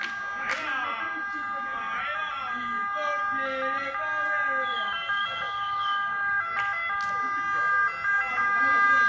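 Fire engine sirens wailing as firefighters arrive at a burning shop, rising and falling pitched tones that carry steadily through the whole stretch, with brief sharp bursts and some background voices.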